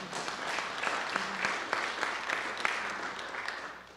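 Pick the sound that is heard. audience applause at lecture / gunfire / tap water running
audience applause at lecture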